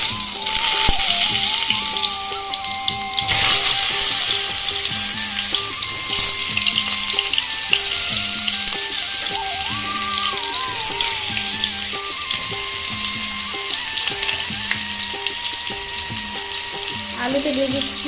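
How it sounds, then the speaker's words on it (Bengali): Potatoes sizzle steadily in hot oil in a kadai for a spicy chicken curry, a loud continuous fry with background tones and clinks running throughout. "তেলটা গরম হয়ে গেছে, আলুগুলো এবার দিয়ে দিচ্ছি।"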